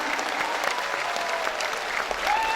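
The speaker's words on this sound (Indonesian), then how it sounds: "Kita tepuk tangan untuk kita semua yang semangat." Short burst of audience clapping at a municipal coordination meeting in Makassar, a dense even patter from a seated crowd, moderately loud with no voices over it.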